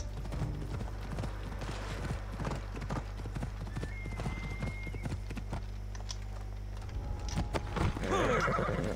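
A horse in Assassin's Creed Odyssey clip-clops along in a steady run of hoofbeats over a low game ambience, then lets out a loud whinny near the end.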